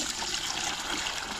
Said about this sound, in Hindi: पहले पानी थोड़ा सा डाल देते हैं,